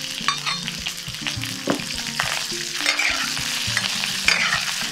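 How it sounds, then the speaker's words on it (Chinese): Duck tongues sizzle in a wok with oil and green Sichuan pepper, a loud close hiss under repeated scraping stir-fry strokes. "炒出香味以后，下鸭舌"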